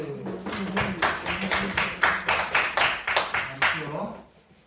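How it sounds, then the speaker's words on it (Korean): Children in a classroom clap in a quick rhythmic pattern of sharp, evenly spaced bursts, with voices sounding along beneath the claps before it trails off at the end. "네, 박수."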